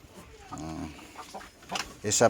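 Laying hens cluck in short bursts on a Philippine farm, with a louder burst of clucking near the end; a person's voice can be heard faintly in the background.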